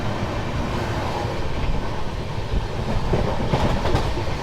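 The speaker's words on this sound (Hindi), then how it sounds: "यहाँ पे दिल्ली और जम्मू के बीच चलने वाली एक और लेजेंडरी ट्रेन जम्मू मेल को हम ओवरटेक करते हैं" Rajdhani Express running fast on rails while overtaking the Jammu Mail, a steady loud broadband rumble of wheels and carriage with faint clickety-clack rhythm throughout, no voices.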